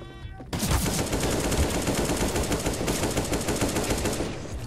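Sustained automatic video-game gunfire from a Random Wingman match, loud and dense, a rapid continuous burst that starts abruptly after a brief quieter moment and runs without pause to the end.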